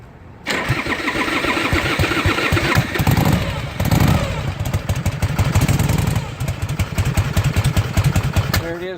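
A 1965 Harley Panhead replica motorcycle starting cold without choke after sitting a couple of days: it fires after a brief pause, then a loud, uneven lumpy idle with throttle blips, the engine close and dominant throughout.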